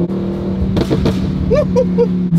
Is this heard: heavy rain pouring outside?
no